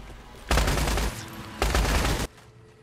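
Two loud, sustained bursts of shotgun fire in the survival video game Once Human, each roughly half a second to a second long, separated by a short gap, with no talk over them.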